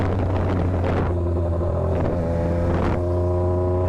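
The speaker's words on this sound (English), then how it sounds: "Look how I downshift without doing it." A Triumph Daytona 765 motorcycle engine rumbles steadily with wind noise while riding, its pitch dropping and rising through a few gear changes as it downshifts.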